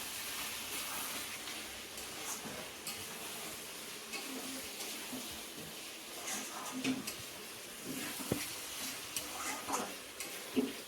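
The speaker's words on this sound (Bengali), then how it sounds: "নেড়ে চেড়ে নেবো" Mutton kosha being stirred in a cooking pan for a wedding-style dish, with a soft, irregular scraping and faint sizzle running steadily throughout, and occasional louder clinks and scrapes of the spoon against the pan.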